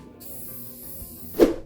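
A short hiss of spray paint applying wrinkle finish to rocker covers from a TVR Rover V8, heard as a brief close burst of spraying near the end after quiet.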